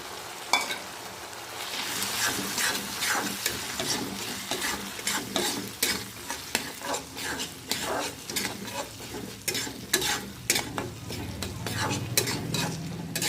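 A spatula stirs gourd with lentils and eggs in a hot frying pan. Continuous close sizzling is broken by frequent scraping and tapping against the pan.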